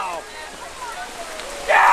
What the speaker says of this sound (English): boy, is it raining hard now